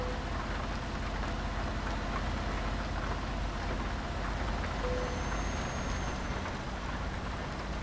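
Steady rain falling outdoors near a truck and trailer, a dense constant hiss of drops filling the whole stretch, moderately loud with no talking.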